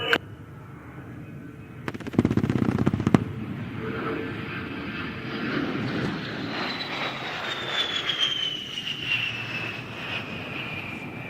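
An A-10 jet roars overhead on a strafing pass at an airshow demo with a short burst of rapid cannon fire, followed by a long, sustained engine whine that slowly fades as it climbs away.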